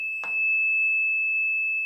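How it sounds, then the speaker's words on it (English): A wastewater pump control panel alarm sounds a steady, unbroken high-pitched electronic tone, with a brief click or knock near the start. "turns the pumps off, but the alarm is still going"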